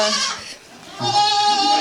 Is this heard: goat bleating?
yes